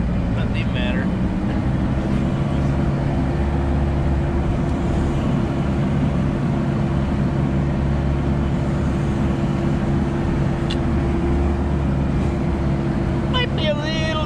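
A Sherp amphibious ATV crossing frozen Lake Winnebago gives a loud, steady engine drone with a constant low hum and rumbling throughout, close by, with no break in the noise.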